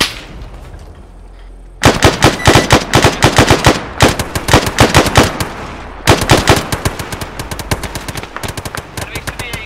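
Video game gunfire in the operation 'Blood Runs Deep': after a near-silent opening, loud, close rapid bursts of automatic fire crack out almost continuously, with brief gaps between volleys.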